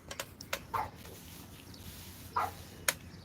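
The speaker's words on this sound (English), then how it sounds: "Fucking dogs, man." Dogs bark outdoors at a distance, a few short scattered yelps standing out above steady background noise, with no talking.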